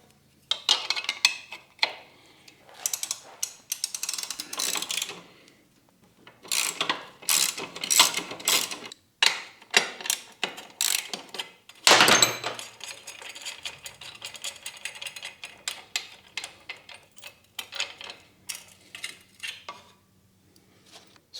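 Tools work on a Yamaha YSR50 motorcycle to take off its rear set, giving close metallic clicks, ratcheting and clinks in bursts with short pauses, and a sharp louder clatter midway.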